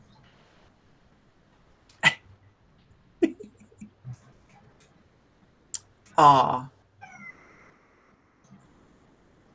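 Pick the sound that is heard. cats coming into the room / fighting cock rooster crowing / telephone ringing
cats coming into the room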